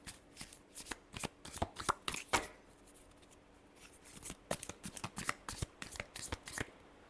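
Tarot deck shuffled in bursts of crisp riffling flicks, with a short pause midway before another run of rapid card snaps, close and fairly quiet with no talking.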